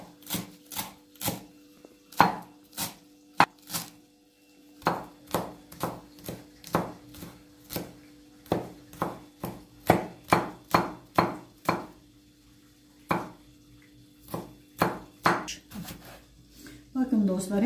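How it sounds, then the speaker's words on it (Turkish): Parsley being chopped with a knife on a board, close and loud, with bursts of rapid rhythmic chops separated by short pauses. "Şöyle maydanozumuzun da hepsini değil bir kısmını doğrayacağım."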